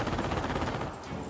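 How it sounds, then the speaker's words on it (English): Bursts of gunfire in the World War II strategy game Company of Heroes, during Operation Market Garden, crackling dense and loud throughout before easing slightly near the end. "Incoming! Gunfire!"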